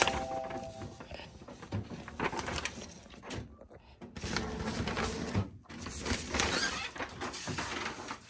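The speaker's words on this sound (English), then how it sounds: "Not like the typical printer sounds like this." An Epson dye sublimation printer whirs and clunks as it starts up, with steady mechanical churning and occasional thumps, fairly loud and close.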